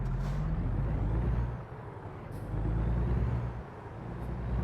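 A brand-new truck in American Truck Simulator labors under a heavy load, its engine droning low and steady with a swelling, dipping rumble, close and continuous, with a brief air hiss now and then.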